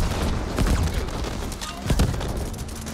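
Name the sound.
gunfire in the video game The Ascent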